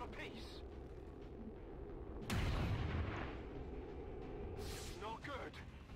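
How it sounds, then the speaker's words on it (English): Gunfire from soldiers in XCOM 2 during a retaliation mission, a few sharp shots and one heavy booming blast over steady game background noise, with someone talking throughout. "Lots and lots of shots been fired from the kill zone."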